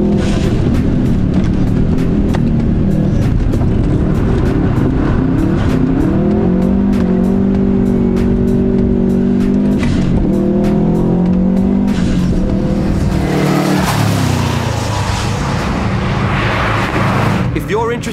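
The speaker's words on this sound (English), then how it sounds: "The front LSD in the STI makes it difficult to drift" A Subaru STI drifts on a wet race track, its engine revving loudly and continuously with rising and falling pitch as tires hiss and squeal, with a voice talking over the car noise.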